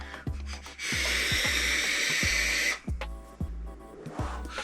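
A loud, steady airy hiss of a Dead Rabbit vape draw lasting about two seconds, with soft clicks and low thumps before and after.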